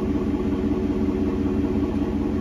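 A truck engine idles steadily at close range, a low continuous rumble with a regular pulsing throb while the vehicle is shifted into park.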